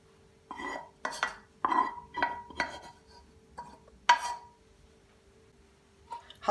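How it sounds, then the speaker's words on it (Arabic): Noodles are dropped onto a plate in a home kitchen, giving a series of close clinks and scrapes of utensils against dishware in uneven bursts, with quiet pauses between them. "بدي احط النيدلز بهيدا الصحن"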